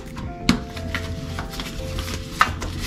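Chicken meatball mixture being mixed by gloved hands, soft squishing and stirring sounds with a couple of faint clicks, steady and quiet throughout.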